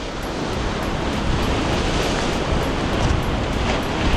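Large waves crash and surge onto the rocky shore at Xghajra, Malta, a loud, continuous roar of churning surf with wind buffeting close by.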